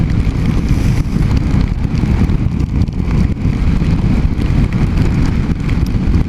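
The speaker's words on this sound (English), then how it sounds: "in the absolute pissing rain" Heavy, soaking rain and wind roar on a wet, windy ride aboard a Honda CB250RS motorcycle, a loud, dense, continuous wash of noise throughout with no voices.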